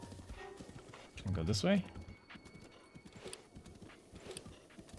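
Horse hooves clip-clop in The Legend of Zelda: Breath of the Wild, with a short neigh partway through, quiet under someone talking.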